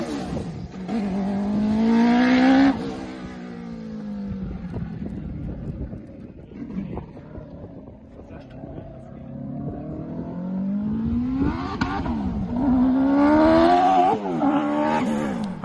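Sierra Alpha race car engine at Pikes Peak revving loudly in repeated rising sweeps, easing to a lower idle mid-run before climbing hard again, with some wind noise.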